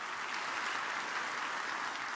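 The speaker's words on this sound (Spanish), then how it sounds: "denle un aplauso al Rey" Sustained applause from a church congregation at a Sunday service, many hands clapping in a continuous, even roar without pauses or voices.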